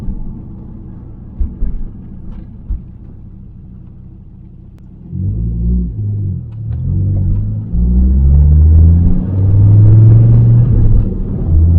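A 2006 Dodge Viper SRT-10 Coupe rumbles quietly at first, then its engine rises into louder, climbing revs as it pulls away and drives on, close and dominant.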